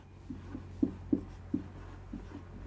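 Soft pen or pencil strokes scratching across paper while a sentence is written by hand, a series of short, faint scribbles in uneven rhythm, close by and alone with no talk.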